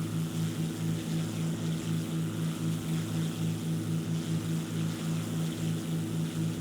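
Propeller aircraft engine droning steadily in the War Thunder video game, a loud continuous pulsing hum with a throbbing rhythm and no talk.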